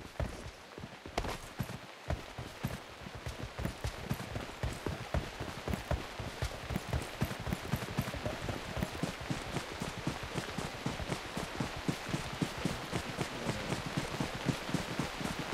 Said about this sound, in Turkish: yağmur mu başladı şimdi de ya